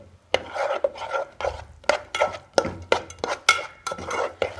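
Peanuts stirred in ghee in a pan over a very low flame, with a series of separate scraping strokes and light rattles of spoon against metal, close and moderately loud, with short gaps between the strokes.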